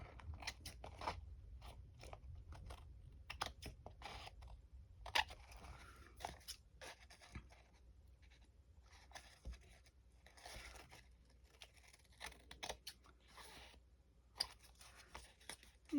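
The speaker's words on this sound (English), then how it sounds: "it's dry enough to cut. So I'll just trim it out." Scissors trimming decoupage paper, giving a faint run of quick crisp snips and crinkly paper rustles in irregular bursts, close and quiet.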